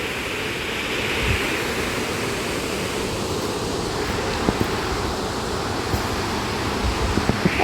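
Excess water discharging at the Sundarijal water source, a steady loud roaring rush like a waterfall, continuous and close with a few faint clicks near the end.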